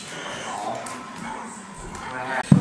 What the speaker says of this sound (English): The big dog was like attacking Jake.